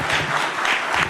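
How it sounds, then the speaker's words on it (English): An audience at a voting rights symposium applauds the panelists, a brief, moderately loud spell of steady clapping. "Join me in giving our panelists a round of applause for their comments and their commentary, their leadership."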